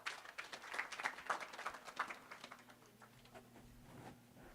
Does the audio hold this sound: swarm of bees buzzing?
no